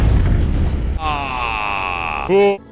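A video game explosion in GTA 5 with a Sonic mod: a burst followed by a sustained ringing whine, ending in a short loud blast that cuts off sharply.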